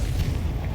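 Deep, booming Confringo spell explosion in the Hogwarts Legacy video game, a brief loud low rumble filling the whole short moment.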